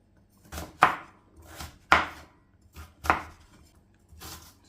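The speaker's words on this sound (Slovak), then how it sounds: "Nakrájaš si batat na kocky." Knife chopping sweet potato into cubes on a cutting board, four sharp, loud, close chops spaced about a second apart with softer knife contacts in between.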